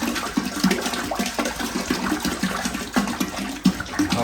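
Water pours into a tall home-brewing pot while the full three gallons are added, a continuous splashing gush close by with small irregular splashes and no talk.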